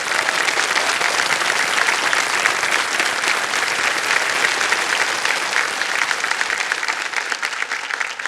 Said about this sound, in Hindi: तालियां बज जाए इनके लिए एक बार फिर